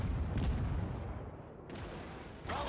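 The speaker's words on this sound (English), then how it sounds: "There are shells flying all around." Naval guns firing shells in a World of Warships battle around a tier 1 cruiser, heavy low booms rolling together into a dense, rumbling barrage with a sharper blast near the start and another at the end.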